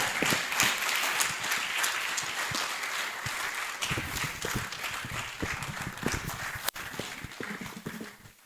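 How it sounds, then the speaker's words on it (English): Sustained applause fills a hall at a university research ceremony, a dense steady patter of many hands clapping at moderate loudness for the whole stretch, with a few sharper claps standing out. "another round of applause for Madam VC"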